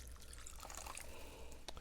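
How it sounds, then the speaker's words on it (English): Water pours and splashes close by into a cooking pan, with a few distinct drips, heard alone and quietly. "I'm also gonna add a little bit of water."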